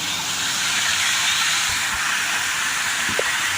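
Clear stream water flowing steadily past a farm field, a broad continuous rush with no voices.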